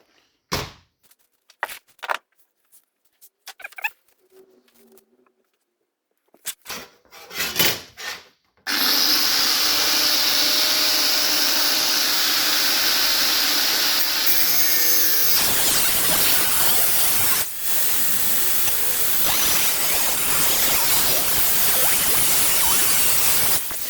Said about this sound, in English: Just use a 5-inch grinder with a 1mm disc.